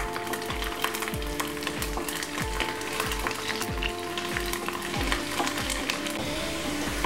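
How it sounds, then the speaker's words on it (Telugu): Garlic frying in hot oil for a moringa leaf dal, a loud steady sizzle with a regular rhythmic scraping stir repeating throughout, close and with no talk. "లైట్గా గోల్డెన్ బ్రౌన్ కలర్ వచ్చేదాకా దీన్ని ఫ్రై చేసుకుందాం."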